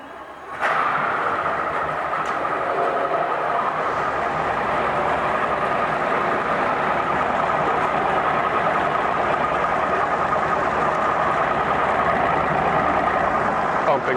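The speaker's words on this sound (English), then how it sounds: "I'll go ahead and fire this engine up." A 2014 Mercury 200hp outboard boat motor with a 20-inch long shaft starts up and runs in a test tank, a loud, steady, close engine drone that continues unbroken after the start.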